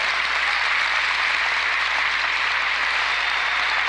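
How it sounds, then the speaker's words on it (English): A warm round of applause from an audience gathered for a Nation of Islam address, dense, steady clapping that fills the room evenly for a few seconds with no voices standing out. "So let's give him a warm round of applause."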